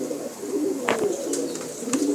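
Several pigeons coo close by in a loft, soft throaty calls overlapping with a few sharper flutters and clicks over a quiet background, short and unaccompanied by speech.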